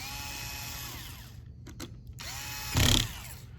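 Screws are driven into a Lenovo Yoga 11e Gen 5 laptop during reassembly by a whirring power driver that runs steadily, drops out briefly, then resumes with a short louder burst near the end.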